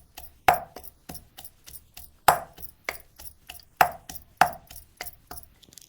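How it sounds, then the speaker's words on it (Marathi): Garlic is pounded in a mortar and pestle in a village kitchen with sharp, rhythmic knocks. Heavier thuds come every second or so, with lighter taps between them, and the sound is close and loud with no talk. "आपण आता लसूण पण खलबत्त्यामध्ये घालून बारीक करून घेणार आहोत"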